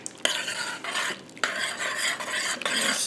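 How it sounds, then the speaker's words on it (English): A spoon stirs tomato paste into peach tomato salsa in a crockpot, producing wet scraping swirls and a few sharp knocks against the pot, close up with no talking. "Stir that around"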